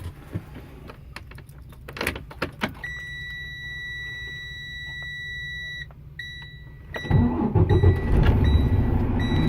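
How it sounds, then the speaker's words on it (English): A commercial vehicle with air brakes starts up. Steady high warning tones sound first, then the engine cranks and catches into a loud, rough idle near the end. "Foot down on the clutch. And go ahead and start my vehicle."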